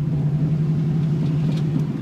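A 1972 Ford Mustang Mach 1 V8 on its first test drive, with a possible minor exhaust leak, gives a steady close low rumble from inside the car at an even engine speed, with no talk.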